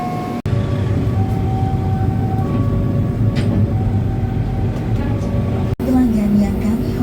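A Rajabasa passenger train pulling away from Labuhan Ratu station, heard from inside the carriage as a steady loud rumble with a faint tonal whine and brief interruptions.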